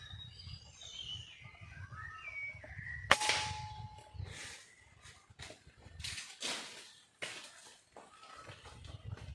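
A PCP air rifle fires once at a squirrel outdoors, a single sharp crack a few seconds in, followed by faint scattered rustles and knocks.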